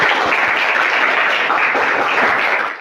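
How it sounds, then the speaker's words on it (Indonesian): Loud, dense clapping from a class in a theatre arts lesson, close and continuous, tapering off at the end, with no speech. "Oke, tepuk tangan untuk semuanya."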